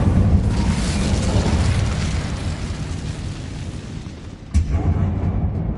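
A spell blast of fire in Hogwarts Legacy roars as a loud, sustained whooshing rumble for several seconds, dipping briefly, then a sharp burst flares back up near the end.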